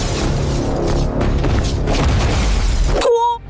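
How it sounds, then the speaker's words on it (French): Loud, sustained explosion rumble from an animated Lilo and Stitch film, a dense roaring wash of blasts and debris lasting about three seconds before cutting to a brief ringing tone; no voices. "Regarde, il y a encore une explosion."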